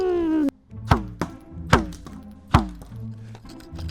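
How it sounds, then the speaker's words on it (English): Video game potato cannon firing at a minion: three sharp, loud thunking shots spaced about a second apart, each with a quick ringing tail, plus smaller knocks between. "Let's see what happens when I shoot the minion with the potato cannon."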